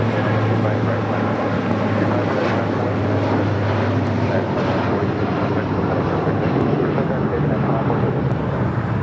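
A jet airplane roars steadily on takeoff from runway 25 right at LAX, a loud continuous rumble with a low droning hum, heard from nearby with a person talking over it.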